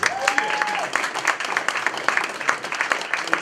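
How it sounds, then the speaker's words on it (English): Audience at a community candidates' night applauds steadily, a dense wash of clapping with a few louder claps standing out and a brief voice or whoop early on. "How about a round of applause for Mr. Tom Russell?"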